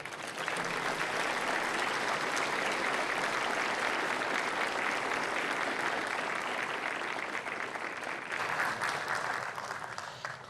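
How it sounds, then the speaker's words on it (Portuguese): Sustained applause fills a Brazilian Senate special plenary session honouring a general, a dense, steady wash of clapping from a large chamber audience lasting throughout, easing slightly near the end. "Portanto, o Brasil lhe aplaude, general Vilas Boas."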